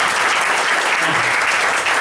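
Seminar audience breaks into loud, continuous applause, a thick wall of many hands clapping close by, with no break across the short stretch.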